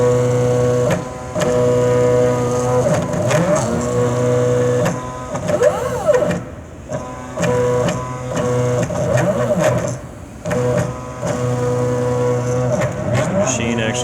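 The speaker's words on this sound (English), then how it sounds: "Here's the machine actually bouncing through the code." A laser engraving machine runs its code on wood, producing steady loud motor hums with sweeping pitch rises and falls as the head moves, pausing and restarting in irregular passes.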